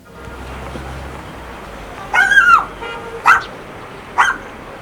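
Three sharp dog barks ring out close by in Lhasa, Tibet, one longer yelp followed by two shorter ones, over a low background rumble.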